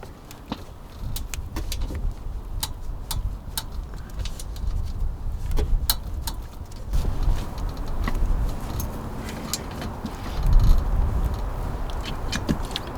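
Metallic clicks and light clinks from bolts being tightened on the turbo heat shield of a 2018 Subaru STI, a steady series of sharp ticks close by over a low background hum, with no talking.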